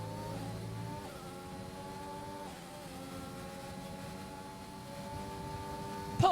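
Racing car engine in an F1 race game at the Bahrain Grand Prix, a loud whining drone that shifts pitch as the car brakes and accelerates, steady and close with no voices over it.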